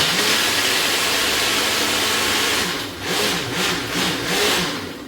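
A Ninja blender crushes ice for a slushie, a loud, close motor whir and grinding that runs steadily, then pulses and wavers near the end as the ice breaks up.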